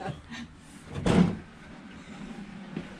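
A bathroom door swings shut during a remodel, one soft thump in the middle of a quiet room with faint background noise.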